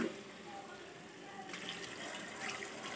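Hot water is poured into a cauliflower, potato and fish curry in a pan, a steady gushing splash that continues and swells slightly midway, fairly close.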